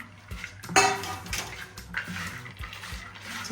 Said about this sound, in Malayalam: ചക്കക്കുരുവിനെ ഇട്ടു